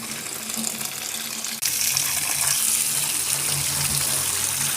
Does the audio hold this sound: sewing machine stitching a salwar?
no